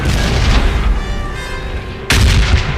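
Bombing-zone explosions in the video game PUBG, heavy booming artillery-like blasts rumbling one after another, loud and close, with a fresh sharp detonation near the end.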